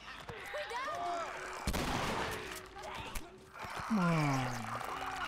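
Several sharp gunshots ring out in The Last of Us Remastered, a loud blast near the middle among softer game sounds, with a player's voice and in-game voices heard around them.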